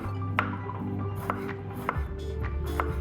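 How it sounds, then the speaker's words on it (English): A knife chops through half a jalapeno on a cutting board, giving several sharp, evenly spaced knocks close up over a low steady hum, with no talking. "Now let's chop our jalapeno. I'm just going to do half of jalapeno."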